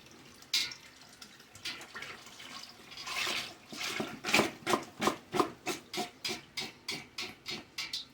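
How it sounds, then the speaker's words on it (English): Beef broth poured into a soup pot for homemade beef vegetable soup, a splashing pour that builds into a run of rhythmic glugs and gurgles from the container, close and fairly clear. "I'm just going to pour this in there."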